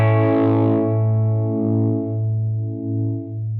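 Guitar played through a Spruce Effects Badlands pedal set to very slow modulation: a sustained distorted chord rings out and slowly decays, with a gentle, slow pulsing wobble in its tone and no talking.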